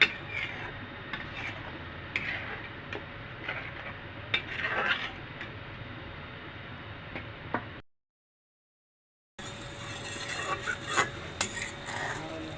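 Spice masala for a potato and prawn curry being sautéed in a pan, with soft stirring, scraping and frequent light clinks of a utensil against cookware, broken by a brief silent gap.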